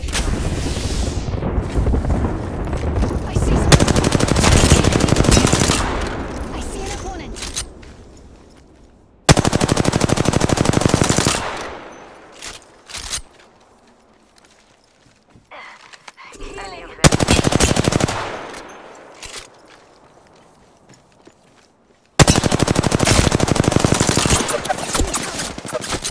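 Bursts of automatic and single-shot gunfire in the Apex Legends battle royale, loud and close, coming in several dense volleys separated by quieter gaps with faint background activity.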